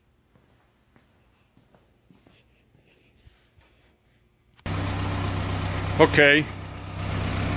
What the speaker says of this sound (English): make sure your engine's warmed up, and here she's at an idle.